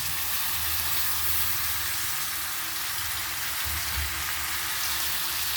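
Jackfruit and potato pieces frying in oil, a loud steady hissing sizzle with a constant crackle that holds evenly throughout, close and uninterrupted.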